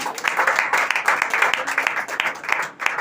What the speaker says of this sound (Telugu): చప్పట్లు కొడదాం అందరూ కూడా